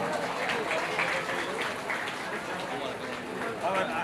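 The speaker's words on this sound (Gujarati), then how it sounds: "આપણે બેઠા બેઠા કમસે કમ તાળીઓ પાડીએ" An audience at a Shrimad Bhagwat religious gathering claps in welcome, making a dense and steady patter of many hands close by while voices talk over it.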